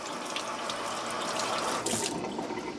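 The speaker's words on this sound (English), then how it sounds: "Rinse your knife off, rinse your carrot off." Tap water runs steadily into a kitchen sink while a knife and carrot are rinsed during prep for a pork and Hatch chili stew. The water is a continuous, even splashing rush with brief changes in tone as the items pass under the stream.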